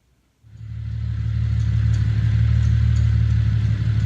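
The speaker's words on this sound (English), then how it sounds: "It sounds like a 2J with a little power steering squeal, but it's pretty cool to be in a Volvo" A Toyota 2JZ engine swapped into a Volvo sleeper catches after a brief silence and settles into a loud, steady, deep idle rumble, with a faint high power steering squeal riding thinly above it; no one talks.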